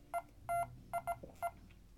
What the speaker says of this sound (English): So that's 8 times, doing the Morse code like it did on the 12th.